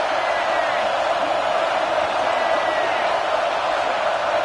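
Steady, dense roar of a stadium crowd swelling in a video game football match, a constant wash of voices with no distinct shouts standing out.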